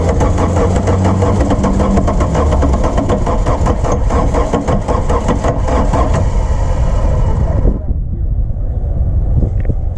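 An old VW truck engine, abandoned for 17 years, cranks with a dense rhythmic churn and catches in ragged firing bursts. It runs loud and close, then cuts out near the end, with voices talking over it.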